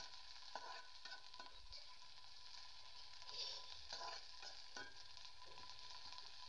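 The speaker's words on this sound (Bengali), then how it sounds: "এখন পেঁয়াজের সাথে মরিচ কুচানোগুলা দিয়ে দিচ্ছি, একসাথে ভালো করে ভেজে নেব।" Onions and chopped green chilies frying in oil in a pan, a steady quiet sizzle with intermittent scraping stirs of a spatula throughout.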